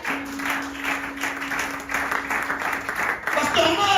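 A church congregation clapping in praise of the Lord, a steady patter of many hands alongside a voice, growing louder and fuller toward the end.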